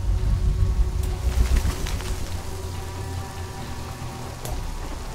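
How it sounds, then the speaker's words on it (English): Rain in the video game Shadow of the Tomb Raider patters steadily over a heavy low rumble, fairly loud at first and easing slightly, with faint bird coos in the background. "This rain's not natural."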